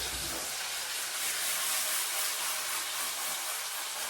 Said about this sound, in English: And you can hear that sizzle